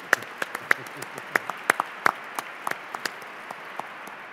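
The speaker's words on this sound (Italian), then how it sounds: "un applausone" Scattered, separate hand claps from a small audience at a live talk with an archbishop. The claps are fairly close and sparse, coming every few tenths of a second over a soft background hum, with no steady roar of applause.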